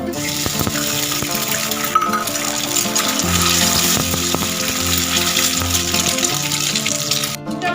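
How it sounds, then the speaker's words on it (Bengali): Egg frying in a pan for a garlic curry, a continuous moderate sizzle with a low hum beneath and a few light utensil clicks, no voices. "এটা ভাজা ভাজা করে নেবো কি কি দেবো বলো তো এগুলো সমস্ত কিছু আমি একসাথে করে নেব প্রথমে আমি ডিমটা দিয়ে দেবো"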